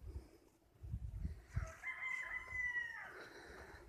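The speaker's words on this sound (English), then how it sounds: "There's a rooster." A rooster crows once in a long, drawn-out call with bird chatter in the background and low rumbling noise underneath.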